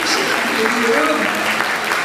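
Audience applause at a Turkish evening stage event, a steady dense wash of clapping filling the whole moment with voices mixed in underneath.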